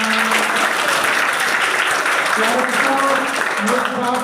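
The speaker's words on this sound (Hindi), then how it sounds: "एक बार प्रिंसिपल मैडम के लिए तालियां।" Audience applause for a school principal at a Sensorium Public School event, steady and dense throughout, with tonal music or singing lines running beneath the clapping.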